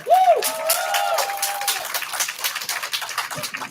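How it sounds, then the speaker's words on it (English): A live audience claps steadily for a performer, a dense patter of many hands that starts loud and holds through, with a tonal whistle or squeal rising briefly over it near the start. "Please give a huge round of applause to Nikki Allen"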